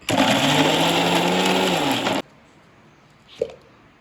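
A kitchen mixer grinder blitzes onion, curry leaves and tomato in one loud, steady whir that stops abruptly about halfway through, followed by quiet and a brief clunk.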